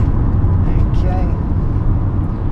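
Steady low rumble of a car's engine and cabin noise while driving, a quiet, even drone filling the whole stretch with no voices.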